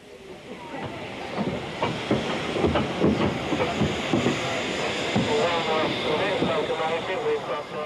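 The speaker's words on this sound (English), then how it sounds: "Visiting Ginty Tank 47298 from the Llangollen is the next to pass" Ex-GWR tank locomotive 47298, visiting from the Llangollen Railway, passes at steady volume with a broad hissing rumble and repeated rhythmic beats of its exhaust across the stretch.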